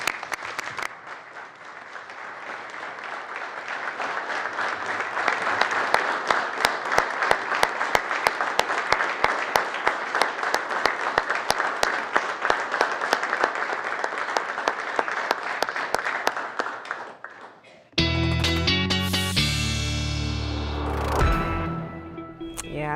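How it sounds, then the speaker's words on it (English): An audience gives a round of applause, a dense sustained clapping that swells and holds for about seventeen seconds before cutting off abruptly, followed by a burst of music. "Please join me in giving Dave and the rest of the crew a round of applause"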